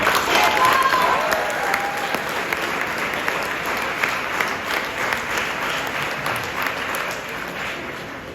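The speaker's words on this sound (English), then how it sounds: "Please give him a round of applause." A crowd at a sports awards banquet applauds steadily, a dense wash of clapping that holds for several seconds and slowly tapers off.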